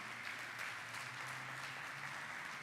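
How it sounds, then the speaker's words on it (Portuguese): A church congregation applauds strongly, a dense wash of clapping that holds at a steady level for under three seconds, heard somewhat distantly with no talk over it. "Dá um aplauso a Ele bem forte aí."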